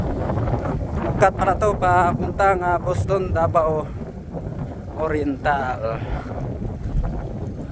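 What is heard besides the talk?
strong wind blowing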